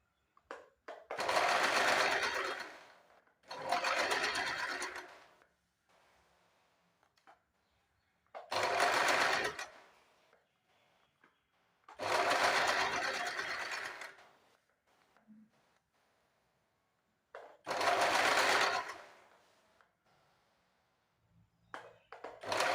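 A sewing machine stitches around the neckline of a lined blouse in five separate runs of rapid, close whirring, each a couple of seconds long, with quiet gaps between them.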